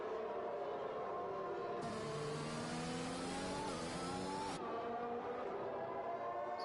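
Formula 1 race cars in the F1 2021 video game at the Netherlands round, engines whining as they pass close by, pitch sliding through the pass; one loud burst sweeps through mid-clip over steady engine drone.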